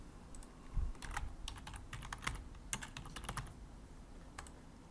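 Light typing on a computer keyboard while entering product catalog details, with irregular soft key clicks in quick bursts, close and quiet with no talking.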